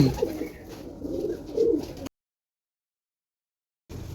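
Several fantail pigeons coo in low rolling bursts, close and clear, with a sudden stretch of total silence midway before the cooing resumes briefly.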